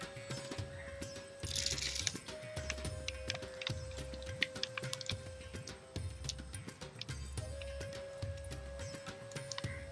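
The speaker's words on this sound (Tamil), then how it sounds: "கடுகு ஜீரகம் போட்டுக்கலாம்." Mustard seeds and cumin sputter and crackle in hot oil for a bitter gourd kuzhambu, a dense run of small sharp pops and ticks close by, with no talking.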